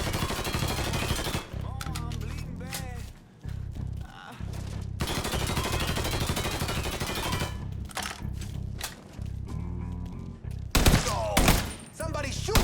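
Loud bursts of automatic and single gunshots from a Mafia III video game firefight come in rapid volleys. Brief pauses break the shooting, and a voice is heard between some of the bursts.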